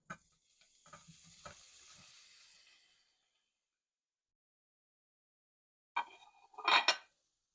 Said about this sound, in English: Right now we're gonna start cooking the sausage for the